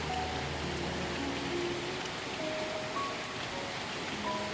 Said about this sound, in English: it's raining quite heavily outside